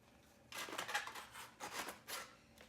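A knife slices along a line through food on a plate, soft rasping cutting strokes in three or four short bursts, close and quiet.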